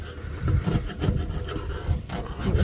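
Leftover paint being scraped off a campervan roof ahead of fitting flexible solar panels, a close, continuous rough rubbing and rasping with uneven strokes, heard alone.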